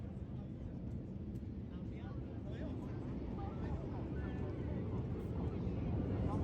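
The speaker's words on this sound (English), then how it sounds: "look directly to your front and you have the very lone jet of Red 6 running in towards us" A Red Arrows jet, flying solo as Red 6, runs in toward the crowd at an air show. It makes a steady, broad roar that slowly grows louder, with a commentator talking over it.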